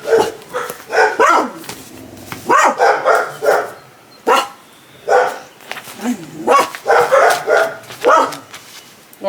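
A dog next door barks repeatedly in loud, close bursts with short pauses between volleys, some yips and whimpers mixed in, and a person's voice heard at times.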